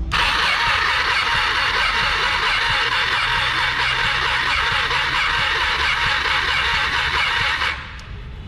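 Engine cranking steadily on the starter during a cylinder compression test on a failing motor, a loud continuous churning whir with rhythmic compression pulses that stops abruptly near the end.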